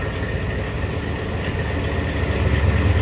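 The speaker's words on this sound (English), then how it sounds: "We'll give it a little bit of a rev here." A cold 1968 Plymouth Road Runner V8 runs with a steady, loud low rumble, its revs rising slightly toward the end with no voices over it.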